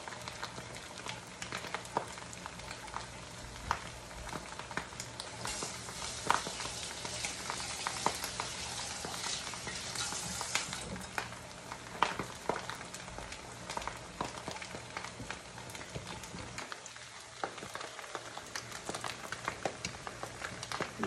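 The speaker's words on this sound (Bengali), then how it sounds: "চিকেন ফ্রাইগুলো হচ্ছে এখানে" Chicken frying in a pan, a steady crackling sizzle with dense popping spatters that runs throughout at low volume.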